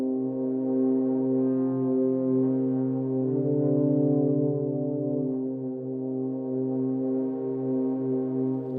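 Solo brass instrument from a sample library holding a long, soft, solemn sustained note with slow vibrato and a breathy airy tone, heard alone with no talking.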